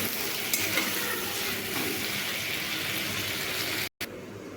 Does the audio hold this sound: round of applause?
no